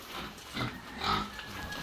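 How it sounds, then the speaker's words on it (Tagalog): A pig being weighed on a farm scale gives short grunting oinks, with two louder bursts among steady low farmyard noise and no talk. "kinikilo na po yung baboy"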